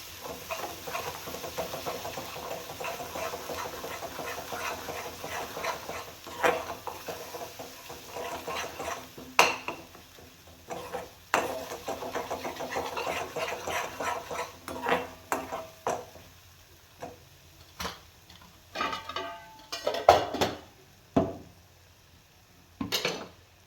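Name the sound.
stirring and sautéing with bedgi chili powder in oil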